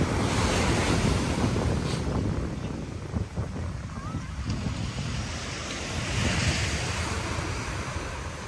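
Big sea waves crash onto the sand at Nha Trang beach, a continuous loud roar of surf with swelling surges, mixed with strong wind buffeting the microphone.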